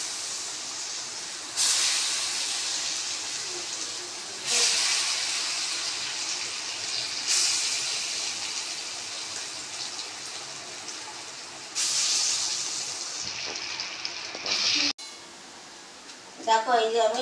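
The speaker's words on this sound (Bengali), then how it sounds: "দেখো এই যে আমি বড়া একে একে ভেজে তুলে নিচ্ছি।" Lentil fritters fry in hot oil in a home kitchen, giving long bursts of bright sizzling hiss that swell and fade in several waves, ending with a few short clattering sounds.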